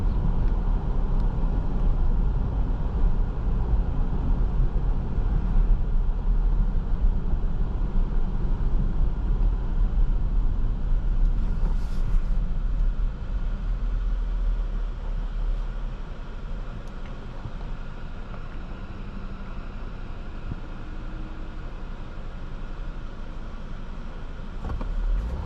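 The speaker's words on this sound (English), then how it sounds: "The V6 has a nice strong sound to it." Cabin sound of a 2025 Jeep Grand Cherokee Limited with its V6 engine while driving: a steady, dense low rumble and road roar that eases slightly partway through, with no voices.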